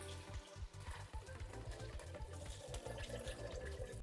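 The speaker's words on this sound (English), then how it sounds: "we're going to add the water" Water pours steadily into a pot of cooked ground beef for a creamy poblano soup, a continuous close splashing and gurgling with no pauses.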